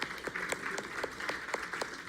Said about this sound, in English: round of applause, nice one